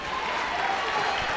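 Spectators at a high school boys basketball game between North Branford and Haddam-Killingworth give a steady, moderately loud round of applause, a brief continuous wash of clapping.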